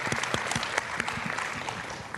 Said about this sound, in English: Just want to give applause to them for those great answers.